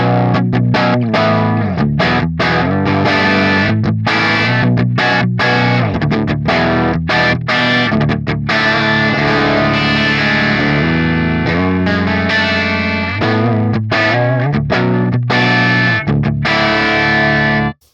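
Heavily distorted electric guitar through an EL84 valve amp breaking up quickly at low volume, played continuously and loudly, chords crunching with gritty breakup and brief gaps between strums, no voices.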